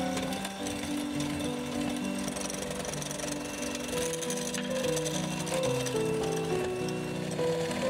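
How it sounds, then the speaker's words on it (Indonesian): An electric hand mixer whisks egg yolks and sugar for a tiramisu dessert, a steady continuous motor whir with shifting tonal hum running evenly throughout, without speech. "lalu kita mix dengan menggunakan hand mixer"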